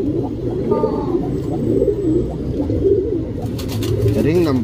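Tournament-grade pigeons, matched male and female pairs, coo close by in a loft. Their soft rolling coos repeat over a constant low background murmur.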